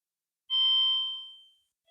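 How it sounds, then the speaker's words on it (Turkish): A doorbell at the front door chimes once, a clear bright ding with a ringing tail that fades over about a second, heard alone in a quiet room with no talking. "kapı çalıyor"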